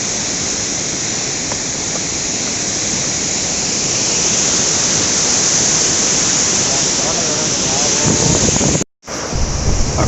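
Water pours forcefully through the gates of Somasilla Dam, a loud, steady broadband roar with wind buffeting the microphone, briefly cut out near the end.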